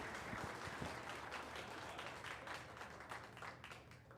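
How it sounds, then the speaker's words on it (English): A school board meeting audience gives a round of applause, a soft, dense wash of many hands clapping that sounds distant and stays fairly even throughout. "Let's give another big round of applause."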